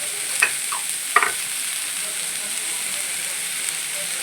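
Vegetable roll stuffing with Schezwan chutney sizzles in a pan, a soft steady frying hiss with a couple of sharp scraping stirs of the spoon near the start.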